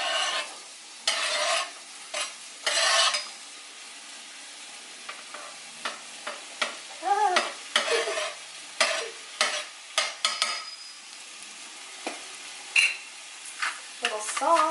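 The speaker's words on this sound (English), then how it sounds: "On medium-high heat, and then we're going to add the mushrooms, white scallions, salt and pepper" Mushrooms and white scallions fry in oil over medium-high heat, a faint low sizzle broken by repeated bursts of stirring and scraping in the pan.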